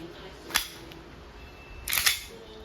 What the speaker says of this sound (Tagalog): Semi-automatic firing.